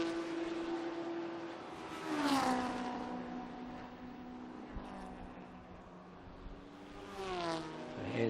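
Classic race cars, including a Ford GT40, Ford Falcon, Ford Capri and a Porsche, pass through the chicane at the Estoril circuit. Engines rise and fall in pitch as they sweep by, a loud drone swelling and fading with no talk.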